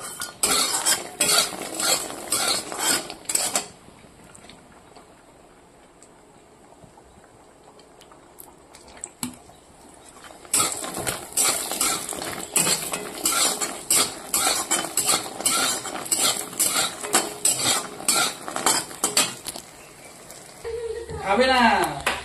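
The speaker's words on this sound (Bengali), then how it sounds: "এবার ডালের গুঁড়াগুলোকে হালকা করে ভেজে নেব।" Lentil powder fries in a pan and is stirred with a utensil, giving rapid scraping and clinking strokes near the mic in two long stretches with a quiet sizzle between them, while someone talks.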